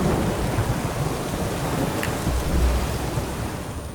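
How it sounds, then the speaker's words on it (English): Heavy rain pours with rumbling thunder in the open-world video game The Witcher 3: Wild Hunt, a steady, loud hiss of downpour over deep low rolling, with no talking. "Oh! It's raining!"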